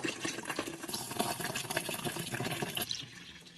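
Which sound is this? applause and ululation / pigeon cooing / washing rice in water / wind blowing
washing rice in water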